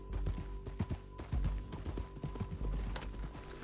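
Horse hooves clip-clopping at a walk across the ground in Red Dead Redemption 2, a steady series of close, fairly loud footfalls with uneven rhythm, heard without talk.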